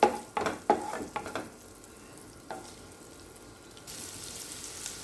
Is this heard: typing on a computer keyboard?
no